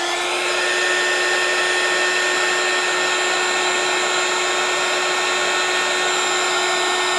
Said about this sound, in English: So just going to blast my heat tool now.